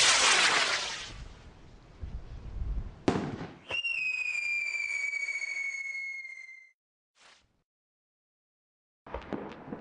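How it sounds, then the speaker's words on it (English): A chemistry-made firework rocket fires off with a rushing roar, then a loud crack followed by a sustained high screaming whistle lasting a few seconds that cuts out, leaving a brief pop and near silence before more noise. "The rocket behaves exactly as planned, right down to the screamers."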